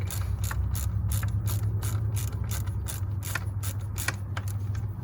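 A ratchet clicks in quick, rhythmic bursts while tightening a spark plug on a V6 Jeep Grand Cherokee, close and clear over a low background hum.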